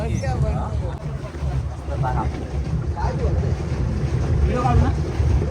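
A boat ride on open water: a steady low rumble of the boat and wind buffeting the microphone run throughout, with voices talking over it.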